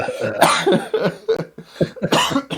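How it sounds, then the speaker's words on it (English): A series of harsh coughs, several bursts in quick succession, close and loud, with no talking. "Sorry about the cough"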